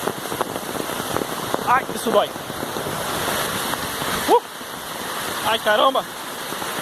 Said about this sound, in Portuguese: Rapaz, tá chovendo pedra.